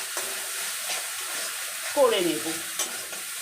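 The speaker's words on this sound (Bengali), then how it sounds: "ভালো করে অনবরত নাড়িয়ে নেব যাতে লেগে না যায়।" Ridge gourd peel with a little salt and turmeric is stirred in a pan over a medium flame, making a soft continuous sizzle with stirring scrapes, and a voice speaks briefly partway through.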